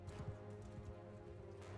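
Horse hooves clip-clop in a video game, a few quick uneven hits under a steady droning music bed, faint and soon fading into the background.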